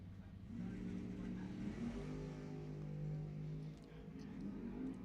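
A Camaro and a Monte Carlo launch side by side at Lebanon Valley Dragway, engines roaring and climbing in pitch through a few seconds of hard acceleration, heard at moderate distance.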